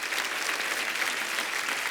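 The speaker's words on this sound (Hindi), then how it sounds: "तो चलिए सबसे पहले बुलाते हैं आप सबकी जोरदार तालियों के बीच डैशिंग वरुण धवन और साथ में ब्यूटीफुल कियारा आडवाणी" Studio audience applause on a Hindi TV comedy show, a continuous, even wash of clapping from a large crowd, fairly faint, with no talk over it.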